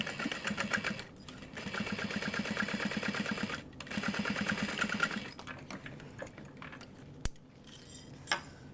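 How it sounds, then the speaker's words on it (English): Sewing machine stitching a tote bag side panel seam at a half-inch allowance, quiet bursts of rapid needle chatter broken by brief pauses, then light clicks and handling sounds near the end. "we're going to sew this at a 1/2 inch seam allowance"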